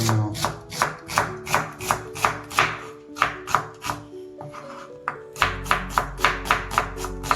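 A knife chops onions on a cutting board for Kerala beef roast: a fast, even run of sharp close thuds, a short pause, then another quick burst of chopping, with no talking.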